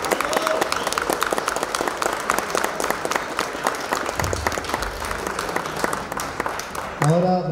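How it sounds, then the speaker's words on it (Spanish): Wedding guests at a civil ceremony applaud the newlyweds, loud dense clapping from a close crowd that holds steady for several seconds before fading, followed by a brief burst of voices. "un fuerte aplauso,"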